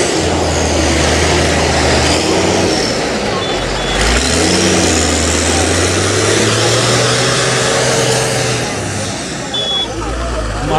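Modified farm tractor fitted with a truck engine, running steadily with a loud, deep continuous rumble close by, a brief dip near the four-second mark; people talk over it.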